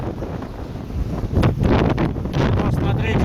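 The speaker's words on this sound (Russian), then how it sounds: "Сегодня скорость ветра где-то от 55 км в час до 60." Very strong wind in Patagonia, Argentina, gusting around 55 to 60 km per hour, roars and buffets hard against the microphone in continuous loud rushes, with trucks driving slowly nearby.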